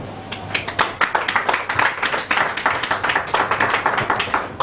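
Conference audience applauding after a speech at an event supporting reconstruction in the DR Congo: a room of hands clapping in a dense, uneven patter that swells, then settles into steady rhythmic claps.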